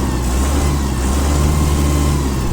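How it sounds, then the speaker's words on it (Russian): A small mini tractor diesel engine runs steadily nearby, a constant loud chugging drone without pauses. "Ну и двигатель, я думаю, вы слышите,"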